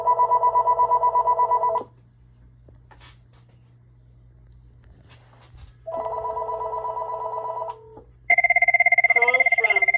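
A telephone call over a PSTN line through a FreePBX system: bursts of steady ringback tone, a quiet pause, more ringing, then a higher electronic ringtone, all clear and close with no voices.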